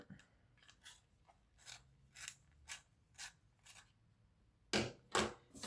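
A handheld pencil sharpener grinding a pencil, heard as a string of short, dry rasping strokes spaced roughly evenly, fairly close and quiet, with two louder strokes near the end and no talking.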